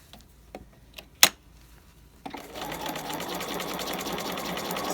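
A home sewing machine stitches the cuff latch of a raglan coat, starting after a few sharp ticks and taps, then running as a steady close mechanical whir that holds to the end.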